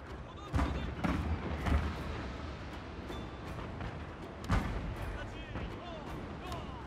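Cannon fire from ships in the Total War: Shogun 2 strategy game: several deep booming blasts and thuds over a rumbling battle bed, with a strong blast near the start and another later.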